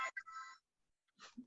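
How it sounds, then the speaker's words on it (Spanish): A telephone rings faintly with short electronic tonal bursts separated by a gap, heard alone in a quiet room. "Que justo estaba sonando el teléfono."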